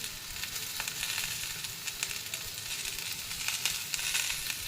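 Bay leaves, peas, tomato and ginger fry in a hot pan, giving a steady, close sizzle that runs throughout, with faint crackles and occasional stirring scrapes on top.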